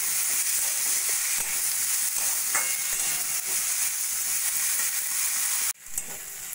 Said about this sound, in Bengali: মটরশুঁটি আর টমেটো দিয়ে টমেটোটা যতক্ষণ না গলে গেছে ততক্ষণ কষিয়ে নিয়েছি